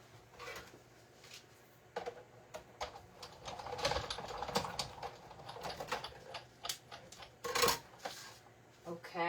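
Craft material for a handmade card is being cut, giving close, irregular clicks and crisp snips in uneven bursts. Soft gaps fall between them.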